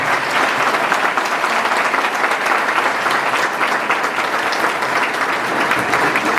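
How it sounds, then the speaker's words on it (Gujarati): An audience at an annual family meet applauds steadily to welcome Govindbhai Dholakia, a dense, even wash of many hands clapping at close range for the whole stretch. "જોરદાર તાળીથી સ્વાગત કરીએ ગોવિંદભાઈ ધોળકિયા"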